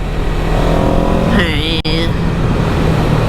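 A 2023 CFMOTO 700 CL-X motorcycle engine blips through a quick rising and falling rev over a steady idle, with a short sharp click midway and a voice talking over it.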